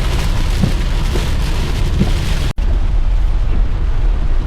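Rain drums steadily on a car while it is driven slowly through misty, rainy weather, a dense continuous hiss interrupted by one brief cut midway.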